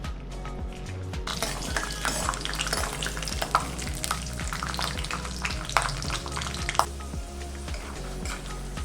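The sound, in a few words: peanuts frying in hot oil in a pan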